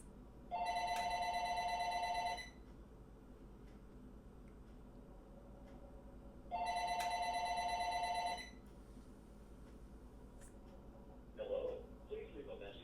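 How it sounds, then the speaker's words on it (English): A telephone rings in two long electronic bursts separated by a pause of several seconds, clear and fairly close in a quiet room, followed by a faint click and rustle. "Let the phone ring, man."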